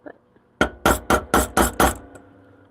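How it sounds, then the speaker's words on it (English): A rawhide hammer strikes sheet metal six times in an even, quick rhythm, each blow a close, loud, bright impact with a short ringing decay, after a brief quiet lead-in. "you shouldn't really be using a rawhide hammer for this"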